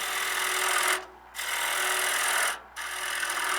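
A negative rake scraper cuts a wooden bowl spinning on a lathe, giving a steady loud hissing scrape broken by two short pauses as the tool lifts off.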